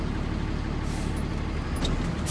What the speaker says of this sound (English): now I'll test my trailer parking brake